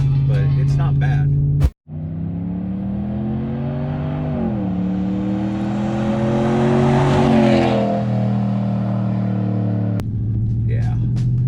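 Engine of a 2019 Dodge Ram truck with a Flowmaster exhaust, a steady droning rumble that rises and falls as it climbs a mountain road, loud and close, with someone talking over it at the start and end.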